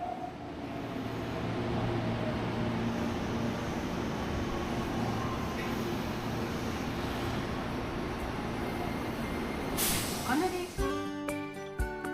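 A steady, loud rumble of a Nagoya subway train running, with a constant low drone and rattling, ending in clattering and a brief rise of higher noise.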